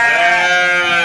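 A breeding ram, a premium stud being shipped to Cianjur, gives one loud, sustained nasal bleat that carries close and clear with no talk over it.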